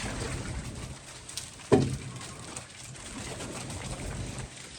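Soft pigeon cooing amid a noisy outdoor background, with a sharper thump or flutter near the middle.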